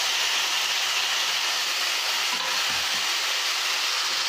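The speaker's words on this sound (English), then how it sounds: "After frying the ginger garlic paste, I'm going to add the chicken into it" Chicken sizzles and fries in ginger garlic paste in a hot pan, a loud, steady hiss with occasional stirring scrapes, close and continuous.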